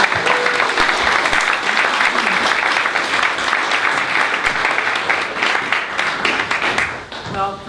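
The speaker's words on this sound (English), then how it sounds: "give her a round of applause for making tonight happen" Loud, sustained applause from an audience at a public freedom forum on child protective services, continuous clapping filling the room for several seconds before a voice begins speaking.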